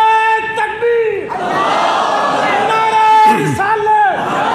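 A crowd at a devotional naat gathering roars back the response to the Naara-e-Takbeer slogan, loud voices shouting in unison in repeated bursts as a lead voice calls out between them.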